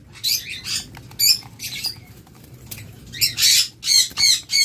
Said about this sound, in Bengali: আর এখানে টোটাল ৯ পিস পাখি আছে